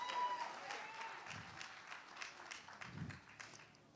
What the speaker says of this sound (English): Give another big round of applause before he starts.